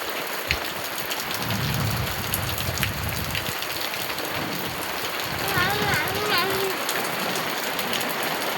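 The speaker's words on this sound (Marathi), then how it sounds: "पाऊस आला ना" Steady, dense rain patters down across surfaces during the first May shower in Konkan, a continuous close hiss with scattered drips, and a voice briefly comes through near the end.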